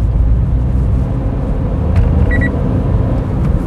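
A manual gasoline car climbing a slope drones with a loud, steady low engine rumble from inside the cabin as gears are shifted, with a small click or beep partway through.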